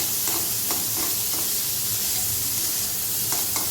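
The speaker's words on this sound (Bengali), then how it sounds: "আর ক্যাপসিকাম কুচি দিয়ে ভালো করে আমরা নাড়াচাড়া করবো, ভাজা ভাজা ভালো করে করে নেব।" Chopped capsicum and carrot stir-fry in a pan, a loud, steady sizzle broken by regular scraping strokes of a spatula as the vegetables are tossed.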